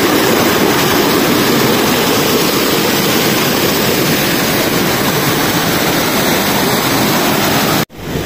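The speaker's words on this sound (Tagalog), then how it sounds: "Lakas ng tubig." Strong rushing water flowing near a garden slide by broccoli plants, a loud steady roar of broadband noise that continues unbroken before cutting off briefly at the end.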